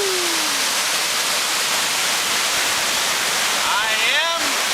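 Waterfall roaring as a steady, loud wash of broadband rushing water, continuous throughout, with a voice briefly heard over it.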